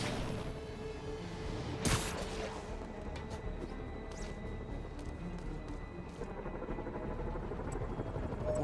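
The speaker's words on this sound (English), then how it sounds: "I can use those helicopters to swing." A helicopter drones steadily in Marvel's Spider-Man video game under dense city noise, with a sharp crash near the start and quick whooshing swings passing over it.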